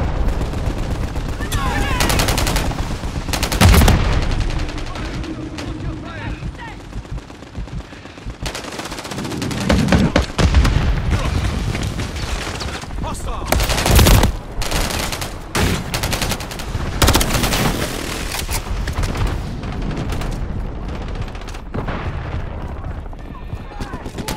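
Heavy machine gun fire in a Call of Duty Modern Warfare 3 multiplayer match, loud sustained bursts with booms layered throughout, while game voices shout over the continuous shooting.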